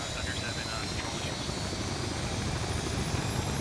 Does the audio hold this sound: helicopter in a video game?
yes